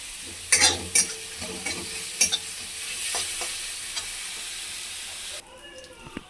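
Onions sizzle in a pan as they are stirred and fried, a continuous hiss punctuated by a few spatula scrapes and knocks, fading quieter near the end.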